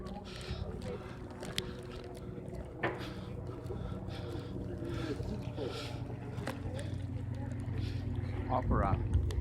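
A boat carries passengers across Copenhagen harbour in Denmark, with a steady low engine and water rumble under the wind. People talk throughout, and a brief chirp rises near the end.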